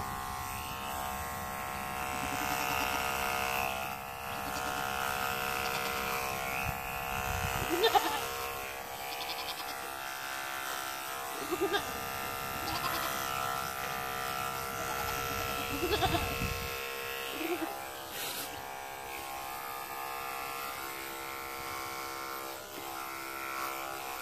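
Electric clippers run over a goat's udder, a continuous mid-level buzz with humming harmonics, broken by a few soft thuds and brief bleat-like sounds, with no one speaking clearly.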